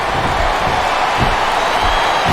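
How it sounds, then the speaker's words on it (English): Arena crowd in the WWE SmackDown vs. Raw 2007 wrestling video game cheering for a wrestler, a steady dense roar with a few swelling surges, loud and continuous throughout. "Now the fans start to cheer for him."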